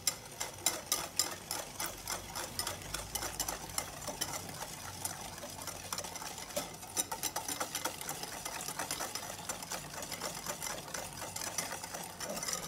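Electric mixer blending cake batter with oil and sugar for a mandarin cake, a steady close whirring with rhythmic rattling pulses throughout, no voices.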